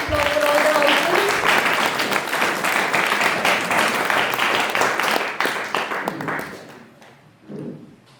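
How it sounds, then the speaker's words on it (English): Audience applause for the competing houses at an Independence Day school quiz, a dense round of clapping that swells, holds, then fades out, with a voice briefly at the start and a few stray claps at the end. "Can we have a big round of applause for all the houses?"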